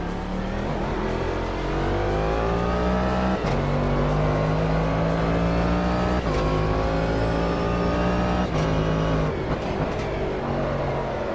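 A race car engine in the Automobilista 2 racing game drones steadily and close, rising in pitch through each gear and dropping sharply at several shifts, with no talk over it.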